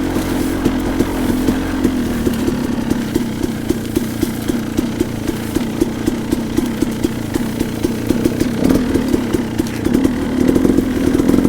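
A KTM 300 two-stroke dirt bike engine runs steadily inside a mineshaft, a loud close chugging with rapid regular firing pulses that rise slightly toward the end, with no talk over it.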